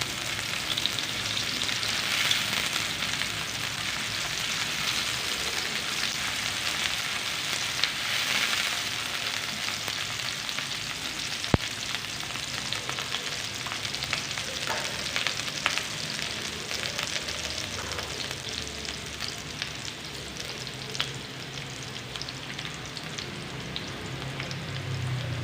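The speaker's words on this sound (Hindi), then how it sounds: "और प्याज़ों को ज़्यादा नहीं पकाना, बस सौते करना है इनको" Chopped onions sauté in a hot pan of oil for vegetable noodles, giving a steady, close, loud sizzle with faint stirring scrapes throughout and no talking.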